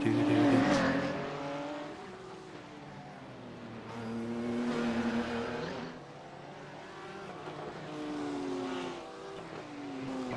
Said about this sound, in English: you hear the rumble of the cars